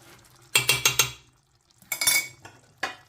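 A spoon scrapes and stirs through thick bolognese tomato sauce with added sugar in a pot, coming in bursts of several quick strokes, then a pause and two more short stirring passes, close and fairly clear.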